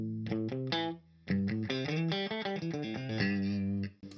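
Electric Stratocaster fitted with Lace Blue Fire pickups plays a riff, a clean, echoey chorus-tinged tone with short rhythmic chord stabs and brief pauses, up close and alone.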